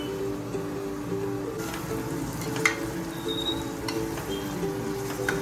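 A masala of coriander powder, chilli powder and mint frying in a pan, a soft steady sizzle with faint scraping and an occasional light clink, no talk.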